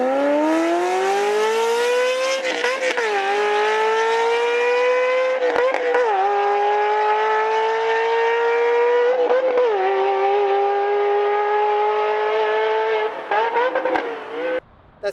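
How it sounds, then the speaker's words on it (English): A Ferrari F355 with a manual gearbox howls through four tailpipes, a loud close exotic engine note that climbs in pitch through several gear changes with brief dips between shifts, running continuously for about fifteen seconds. "we see that there's 4 little tailpipes sticking out. And do you know what that does? It delivers an exotic F1 sound."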